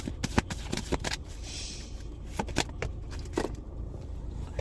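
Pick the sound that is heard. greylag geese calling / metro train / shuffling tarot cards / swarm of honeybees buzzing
shuffling tarot cards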